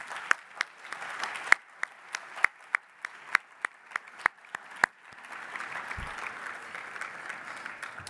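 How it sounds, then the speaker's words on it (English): Applause at an annual meeting plenary luncheon honoring attending mayors: a few sharp, scattered claps first, then a steady wash of clapping building from a moderately distant crowd. "we can all give them another round of applause"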